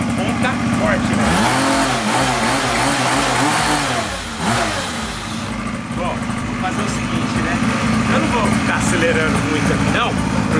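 A mini motorbike engine runs indoors near the roof of a house, revving in short rising-and-falling bursts over a rough, buzzing idle, close and fairly loud, with someone talking over it at times.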